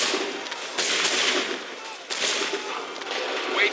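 Gunfire volley in Assassin's Creed 3, heard as two loud, broad blasts about a second and a half apart, each with a long rolling tail that carries through to the next.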